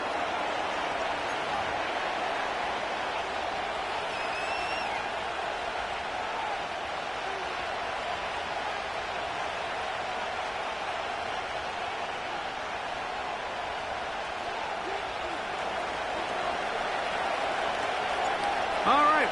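A stadium crowd in the Madden 25 football video game at Lincoln Financial Field in South Philadelphia fills the whole stretch with a steady, dense roar that swells slightly near the end, with no talking over it.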